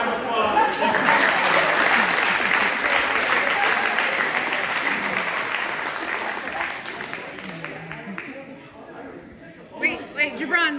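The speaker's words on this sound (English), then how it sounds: "Big round of applause" An audience at a basketball awards ceremony applauds loudly and steadily, the clapping fading toward the end as a voice speaks over it.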